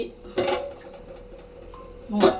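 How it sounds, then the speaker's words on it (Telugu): A lid is set onto a pot of prawn-okra curry, giving two short metallic clanks a couple of seconds apart over a quiet kitchen hum. "మరి అయితే పులుసు మీద మూత పెట్టేస్తున్నాను"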